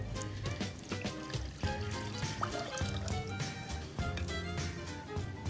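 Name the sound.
water poured into pot for honey syrup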